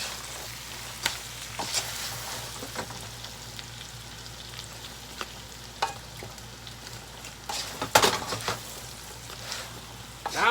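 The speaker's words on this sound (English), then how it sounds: "Now we're going to mix it up" Salt and pepper blue claw crab sizzles and fries in a pan while it is stirred. A steady crackling hiss runs underneath scattered scrapes and clacks from the utensil, which grow busier toward the end. Everything is close, with no talk.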